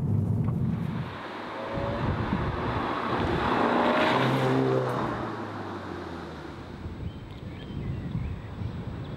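A Seat Leon Cupra accelerates with a rising engine note that swells and fades, heavy wind rush over the microphone throughout, no voices.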